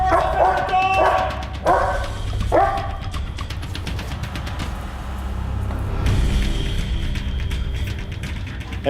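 A police K9 barks in short, sharp bursts near the start, then the barking gives way to ongoing background noise and talk in an indoor search setting.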